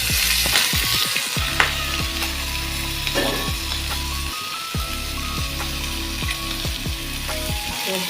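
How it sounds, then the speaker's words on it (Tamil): Onions sautéing with salt in a pan, a steady close sizzle with repeated scraping strokes of a spatula and a low mechanical hum beneath, no voices. "போட்டு வதக்கலாம்"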